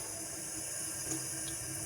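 Water being poured off while tomato seeds are rinsed gives a short, faint, steady splash and trickle of running water, heard alone.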